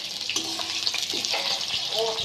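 Pointed gourd frying in hot mustard oil and being turned over in the pan: a close, steady sizzle with short scraping and clattering strokes as the pieces are flipped.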